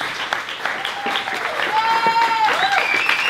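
Applause from a school audience at a high school engineering and music project showcase, steady clapping with crowd voices and shouts mixed in throughout.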